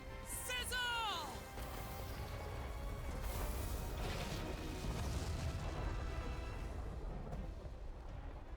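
A fire spell explosion in the Dragon Quest video game roars as a broad, sustained fiery rumble after a brief whooshing swoop, steady for several seconds before fading at the end.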